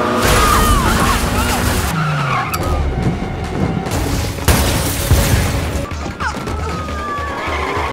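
A car skidding during a police pursuit, with tire squeals and sliding screeches over loud engine noise and rumbling impacts, busy and close with abrupt bursts, and a voice speaking intermittently.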